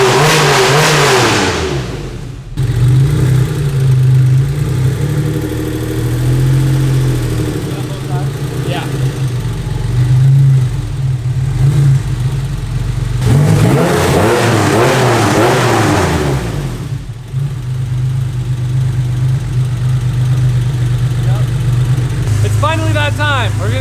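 A Porsche 964 flat-six with a 6-speed swap drives with repeated loud revs and pulls through gears, the engine note rising and falling over a steady drone, with people talking in the car.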